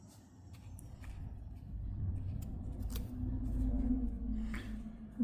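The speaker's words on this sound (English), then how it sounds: "Cut your yarn." Scissors snipping crochet yarn while making a Christmas light keychain, a few faint close clicks and snips over low room hum.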